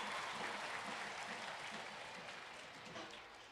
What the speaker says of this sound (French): Encore plus fort, les enfants,